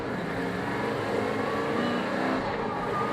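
Hennessey Venom hypercar driving in poor weather, a steady, loud engine and road drone heard from inside the car with no talking.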